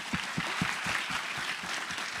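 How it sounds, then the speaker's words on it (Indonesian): A festival audience claps for a few seconds at a mindfulness talk, a moderate, somewhat distant patter of hands with a loose rhythm and no voices over it. "Tepuk tangan dulu deh."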